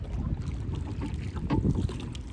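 Rowing a small boat on open water, with steady wind buffeting the microphone and a low churning rumble that swells in the middle as the oars pull through the water; no talking.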